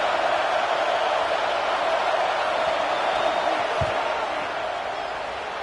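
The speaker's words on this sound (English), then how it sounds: "This crowd trying to do its part to get inside the kicker's head." A football stadium crowd at a Notre Dame versus Alabama game roars steadily before a 50-yard field goal attempt, a dense, sustained wall of noise that eases slightly toward the end, with one brief thump partway through.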